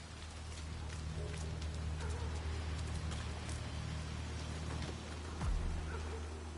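Steady rain hissing in a video game street scene, a soft, even wash of falling drops with a faint low hum underneath and a brief thud near the end.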